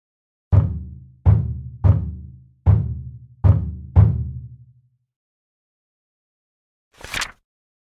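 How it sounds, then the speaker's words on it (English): A bass drum strikes six times in a steady, slightly uneven rhythm, each deep boom decaying quickly. After a pause comes a short, bright noisy burst. "Bass drum."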